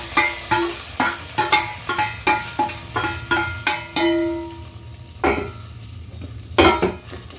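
Chana dal and curry leaves frying in hot oil for a sambar rice tempering, with close sizzling bursts, repeated stirring and spoon scrapes against the pan at a steady rhythm, then a few louder clanks near the end.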